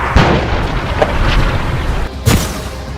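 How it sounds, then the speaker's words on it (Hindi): Explosions from air strikes and tank shelling in the Israel–Hamas war: heavy booms land near the start and again past the two-second mark, over a continuous rough roar of combat noise. "एयर स्ट्राइक, टैंक से बमबारी"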